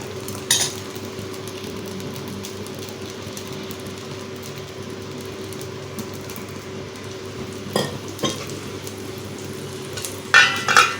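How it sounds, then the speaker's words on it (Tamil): Dosa batter for a paneer masala dosa sizzles steadily on a hot stone griddle. A soft, continuous frying hiss stays close throughout, with a few light clinks of a ladle or utensil and no talking. "கல் காஞ்சிருச்சு. இப்போ நம்ம தோசை ஊற்றலாம்."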